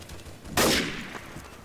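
A single loud, close gunshot in Counter-Strike: Source, a sudden sharp crack that decays over about a second against quiet game ambience.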